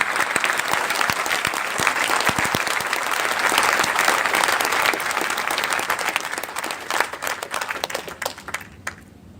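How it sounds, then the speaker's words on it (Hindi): An audience at a direct-selling motivational speech breaks into loud, sustained applause. Dense clapping builds, holds for several seconds, then thins out into scattered claps and fades near the end. "ताली एक जोरदार बजाओ डायरेक्ट सेलिंग के नाम"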